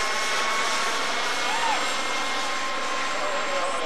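A 1992 jet-turbine model airplane flies past, a continuous loud high-pitched whine with a broad roaring hiss and a brief rising tone, steady throughout with no talk.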